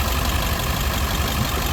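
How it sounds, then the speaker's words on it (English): A 2000 International 4700 semi-tractor with a T444E diesel engine runs steadily at close range, a dense, even rumble filling the whole clip with no clear rise in revs and no voices. "I'm going to rev it up for you so you can hear the engine."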